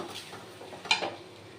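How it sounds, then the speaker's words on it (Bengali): Washed Gobindobhog rice stirred in a dry pan, a brief faint scrape and rustle of grains against metal, heard close with a low background hum. "গোবিন্দভোগের আতপ চালটা আমি ভালোভাবে জল দিয়ে ধুয়ে এখন নেড়ে এটাকে একটা শুকনো চাল ভাজার মতো করব"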